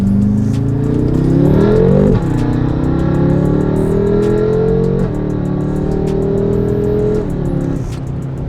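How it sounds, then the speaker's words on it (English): A tuned BMW F10 M5 accelerates hard from inside the car, its engine note climbing loud and steady through the gears, with sharp dips at each shift followed by renewed rising pulls. "We're gonna see how this tune feels in the M5."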